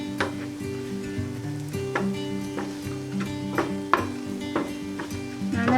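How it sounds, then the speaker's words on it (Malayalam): A spoon stirs chilli and coriander powder into a sizzling cauliflower and potato masala in a pan, with regular scraping strokes against the metal over a constant fry. "നന്നായിട്ടൊന്ന് ഇളക്കി കൊടുക്കാം."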